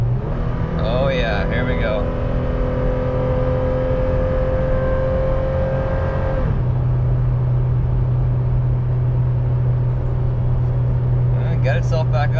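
A Toyota 4Runner towing uphill downshifts midway, its engine drone dropping to a deeper, heavier pitch as it pulls under load, with someone speaking briefly over the cabin hum.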